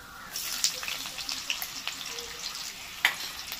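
Chopped green chilies sizzle in hot oil with whole spices and mace for quail egg rice, a steady, close frying hiss dotted with small pops and crackles, with no one speaking.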